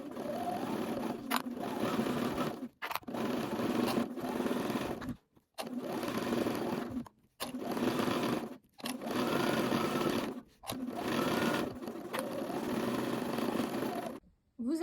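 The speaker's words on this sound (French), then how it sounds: "maintenant on va coudre à 1 cm du bord" A sewing machine stitches fabric one centimetre from the edge in a series of close, fast whirring bursts, each several seconds long, separated by brief pauses.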